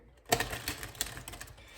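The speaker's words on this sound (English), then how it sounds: "one more shuffle here" A deck of numerology cards is shuffled close by in a short riffle, with a sharp start followed by a quick rattling flutter of cards that fades out.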